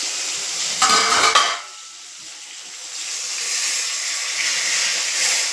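Boal fish frying in a pan sizzles and hisses steadily, with a louder burst of spatter and clatter early on as a lid is lifted, then a softer continuous fry.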